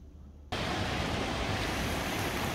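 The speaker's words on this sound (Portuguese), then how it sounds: "esse aqui é a cachoeira, tá? Tem essa passarela que divide. O rio que passa aqui é o Rio Juma" The waterfall of Cachoeira do Apuí on the Juma River, beside a footbridge, breaks in suddenly as a loud, dense, continuous rush of falling water that holds steady without any voices.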